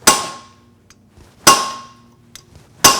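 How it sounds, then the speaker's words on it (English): A brass and rawhide hammer raps a socket fitted on a hex head bolt, three loud ringing metallic strikes spaced about a second and a half apart, each decaying quickly, with a faint tap between. "then I'm going to rap on it"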